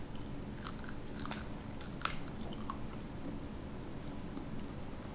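Crunchy dried zucchini chips, seasoned with salt, being bitten and chewed up close, with several sharp crackling crunches over a steady low background hum and no talking.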